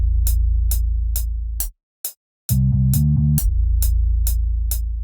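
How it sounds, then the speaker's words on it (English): Long, dirty distorted 808 bass in a drill beat made in FL Studio, booming under steady crisp snare hits, dropping out briefly and then returning with shifting pitches, loud and close. "And I added the 808s."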